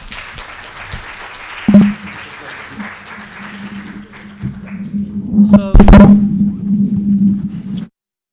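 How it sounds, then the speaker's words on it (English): Conference audience applause at a plenary session, sounding as a thin, sparse patter of claps under a steady low hum, with a couple of louder thumps and a brief mic noise before it cuts off. "Let's have one more round of applause."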